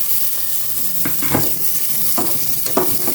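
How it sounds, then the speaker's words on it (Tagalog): Garlic and onion fry in oil in a home kitchen, a continuous close sizzle with several stirring scrapes and spoon taps spaced through it. "Nagigisa na po siya ng bawang."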